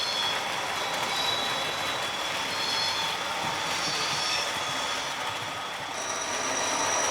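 A Class 37 diesel locomotive hauls a passenger train, working hard uphill, with a steady, loud and close rumble of engine and rolling wagons that carries on throughout, no voices.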